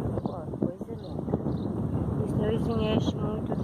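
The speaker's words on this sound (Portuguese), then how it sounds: "Aqui tá ventando, gente." Wind blows steadily outdoors across a garden of plants, buffeting the microphone with a low rumble throughout, while someone talks over it.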